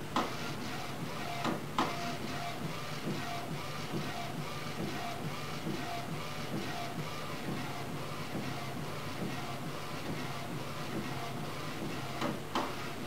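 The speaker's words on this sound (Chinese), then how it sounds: "直接就可以用这个打印机打印" A4-size multifunction UV printer printing onto a plain card, giving a continuous mechanical whirring and rattling hum with a few soft clicks and knocks, steady and moderately quiet.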